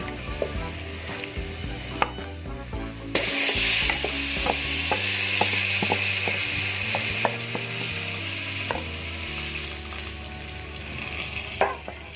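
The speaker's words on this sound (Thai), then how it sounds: "ใส่ เนื้อที่เราหมักลงไปค่ะ" Marinated meat for Indian biryani drops into a pot of hot oil and toasted spices, including cinnamon, and sizzles loudly and steadily, with repeated scraping and clinking of a stirring utensil against the pot, close up.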